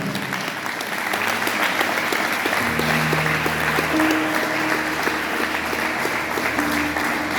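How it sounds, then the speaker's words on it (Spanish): Church congregation applauding strongly during an evangelical sermon, a dense, sustained roar of clapping from a large crowd with organ or keyboard chords sounding underneath. "¿Cuántos pueden aplaudir a Dios en esta hora?"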